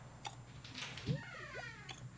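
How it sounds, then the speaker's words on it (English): A pet cat meows indoors, a short, faint, rising call in the middle of a quiet background with a soft hum, heard alone with no talking. "And that's my cat. Hi, cat."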